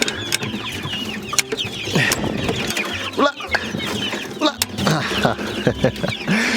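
Chickens and roosters cluck and squawk in a busy, close flock with chicks, with scattered sharp calls and a voice talking over them.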